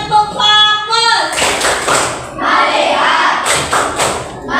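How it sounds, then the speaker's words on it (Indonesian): A class of students does a short unison clapping chant, crisp rhythmic clap bursts mixed with chanted voices, loud and close after a brief spoken cue. "Oke, tepuk fokus."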